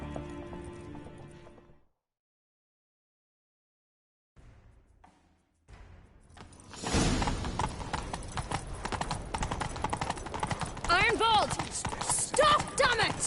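In The Witcher 3: Wild Hunt, after a stretch of near silence, horse hooves clatter into a fast, steady gallop, loud and close, with a brief whinny-like cry near the end.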